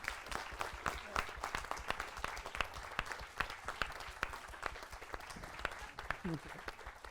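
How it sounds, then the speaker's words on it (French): Applause from a theatre audience at a stage show, many hands clapping in a dense, fairly quiet patter lasting several seconds, with a voice briefly heard near the end. "je pense qu'il mérite bien un tonnerre d'applaudissements"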